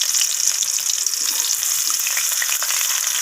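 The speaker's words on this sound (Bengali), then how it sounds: "পেঁয়াজ আর রসুনটাকে আমি ফোড়নের সাথে একটু ভালোভাবে ভাজা ভাজা করে নেব" Bright, constant sizzling of chopped onion and crushed garlic frying with radhuni seeds in a pan for lentil dal, close and loud, with light crackles and no voices.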